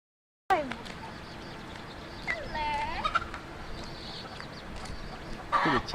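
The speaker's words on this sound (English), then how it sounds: "Look at the chickens." Scattered clucks and squawks from chickens, with a gobble-like call in the middle and a burst near the end, over steady outdoor background noise in Kauai, Hawaii.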